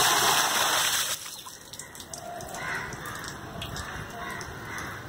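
Collected rainwater gushes out of a rainwater-harvesting diverter in a loud hiss for about a second, then gives way to quieter trickling with crows cawing and birds calling outdoors.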